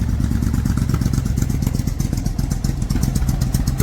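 A Suzuki Intruder 1400 motorcycle engine idles low and steady after carburetor cleaning, a close, loud, even thumping with mechanical clatter throughout and no talk.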